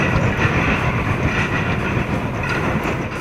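A Shinkansen bullet train runs past in Japan, a loud continuous rushing rumble with rapid rhythmic rail clatter throughout, steady and close.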